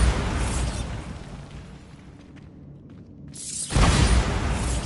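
A Bombarda blasting spell explodes in Hogwarts Legacy, a loud broadband roar that fades into a quieter stretch, then a second sharp blast bursts in loudly.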